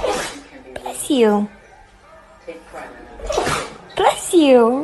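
A dog sniffing around lets out a quick sneeze, then a person's voice follows; short nasal bursts alternate with voices and brief pauses.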